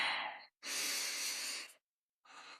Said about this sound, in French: Inspirez bien profondément.